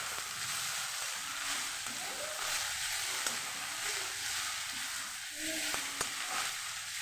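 Potatoes and fenugreek leaves frying in a pan as they are stirred, a steady loud sizzle with scraping stir strokes and small clinks throughout.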